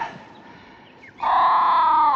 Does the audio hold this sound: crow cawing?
yes